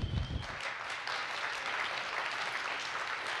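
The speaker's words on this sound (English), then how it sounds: "I'm glad you're clapping because that's how I felt when I read that" An audience claps together after a science talk, a sustained wash of many hands that holds steady with no voices over it.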